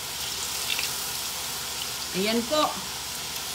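Hot cooking oil sizzles in a pan as banana pieces go in: a brief louder spitting burst rises over a steady faint hiss while a voice speaks briefly.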